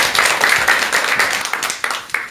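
An audience applauding to welcome a lecturer at a talk: dense clapping that rises and falls in waves, tapering off with a few scattered claps.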